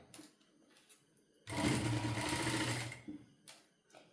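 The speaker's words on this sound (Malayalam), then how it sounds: "ഇങ്ങനെ അടിച്ചെടുക്കാം." An electric sewing machine stitches a blouse in one clear, rapid whirring burst of about a second and a half, framed by faint, quiet handling of the fabric before and after.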